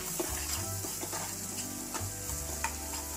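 Ginger garlic paste frying with onions in a hot pan, a steady close sizzle broken by repeated scraping stirs for a curry of drumsticks and tomato.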